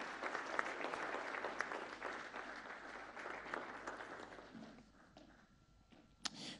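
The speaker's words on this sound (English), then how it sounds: "Please, a big round of applause for Mr." Business breakfast audience applauding a guest speaker, Mr. Osafo Marfo: sustained dense clapping that fades toward the end, with a brief sharp knock near the finish.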